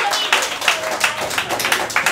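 A small audience at a fireside chat and Q&A claps for a guest, with distinct individual hand claps in an uneven rhythm, close and fairly loud, and a few voices murmuring beneath.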